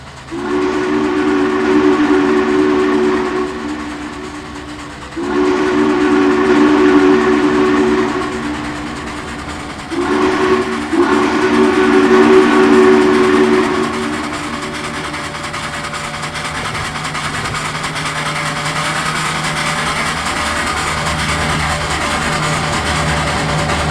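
Steam locomotive Norfolk & Western 611 blows three long whistle blasts, then chugs on with a steady rumble and rising exhaust beats as it gathers pace to track speed.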